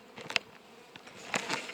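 Honey bees buzz close by in an arctic apiary during queen rearing, a faint, wavering hum with brief louder swells as individual bees pass near.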